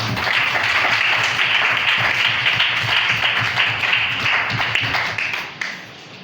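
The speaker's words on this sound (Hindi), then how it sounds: "सब लोग ताली बजाएं।" A church congregation in India clapping together at a prayer service, a dense continuous round of hand claps that fills most of the clip and then thins and fades near the end.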